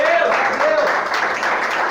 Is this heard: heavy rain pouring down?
no